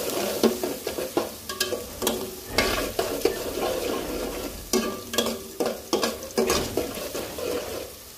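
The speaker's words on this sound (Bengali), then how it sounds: "তো পেঁয়াজটা ভালো করে ভাজবো" Onions frying in hot oil for a beef curry, a steady sizzle broken by repeated scraping stirs of a spoon against the pan, close and fairly loud with no talking.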